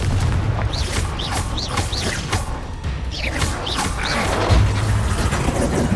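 Confringo fire-blast spells in Hogwarts Legacy burst in a rapid run of booming impacts with whooshing cracks, loud and close, repeating several times across the stretch alongside shouted spell names.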